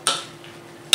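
Spoon stirring vegetables and rice in a pot for a Tunisian rice dish with vegetables and shrimp, two close metallic scrapes against the pot separated by a short quiet pause.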